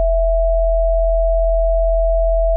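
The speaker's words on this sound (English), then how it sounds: "It's just 2 sine waves" A steady, pure synth tone made of two phase-shifted sine waves layered into one preset, holding a single unchanging pitch alone and clean for under three seconds.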